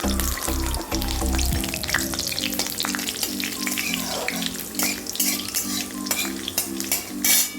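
Panch phoron and dried red chillies hit hot oil for a Bengali chorchori, crackling and sizzling loudly and continuously at close range, with brisk stirring scrapes and a faint steady hum behind.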